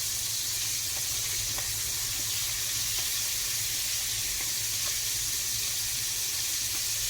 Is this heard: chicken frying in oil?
yes